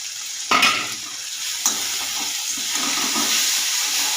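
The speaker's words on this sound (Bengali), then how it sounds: "এটা ভালো করে একটু কষিয়ে নেব।" Onion and tomato fry in a pan with a constant close sizzle, broken by a couple of louder scraping stirs near the start.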